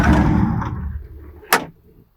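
The cab door of a Kubota SVL75 compact track loader swings and latches, a rattling movement followed by one sharp close clunk that quickly fades to quiet.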